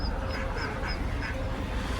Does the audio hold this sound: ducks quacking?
yes